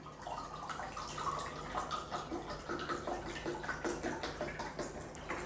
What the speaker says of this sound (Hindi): आप ऐसा पानी डाल रहे हैं जो -800 ORP का है, एंटीऑक्सीडेंट है, पानी अल्कलाइज्ड है